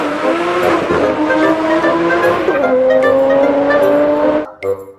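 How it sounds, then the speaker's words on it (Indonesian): A toy race car gives off a steady electronic engine-and-siren sound, a loud buzzy tone holding on, dipping once partway, then cutting off abruptly near the end. "Yang ini ada mobil balap."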